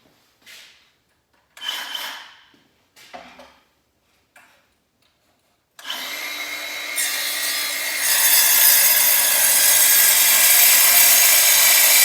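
An M Saw cuts through wood with a loud, steady rasping roar that swells and stays intense, after a few short scraping strokes and taps as the cut is set up.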